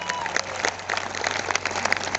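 Audience applause at a motivational seminar, a dense, steady patter of many hands clapping throughout, fairly close and lively with a faint voice underneath.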